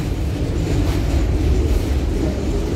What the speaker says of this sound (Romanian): Bă, e un tramvai mișto.